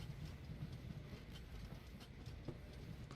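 A passenger train rolls along in the Train Valley 2 game, a steady low rumble with faint rail clatter, continuous and moderately quiet throughout, with no voices.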